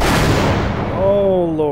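A single loud pistol shot in Half-Life opens the moment as a broad booming blast, then decays into a ringing, falling tonal tail.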